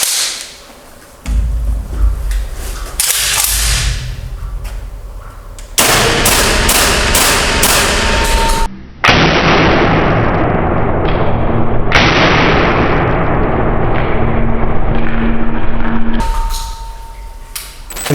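Antares MG-99 magazine shotgun test-fired in a factory, several loud sharp blasts with echoing tails, spaced a few seconds apart, with mechanical action noises between shots.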